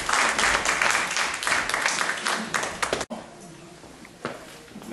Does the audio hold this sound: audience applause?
yes